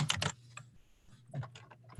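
Quick, quiet bursts of typing on a computer keyboard, a flurry of close clicking keystrokes, a short pause, then another run of taps.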